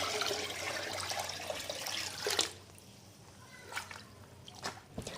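Clear water, about 20 liters, poured into a container makes a dense rushing splash that stops abruptly partway through, leaving a quiet room with a few faint knocks and splashes.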